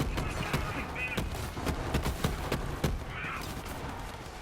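The Yellowcake weapon in Borderlands 3 fires in sharp repeated reports, several distinct shots spaced unevenly over a continuous rumbling background din, with no one speaking.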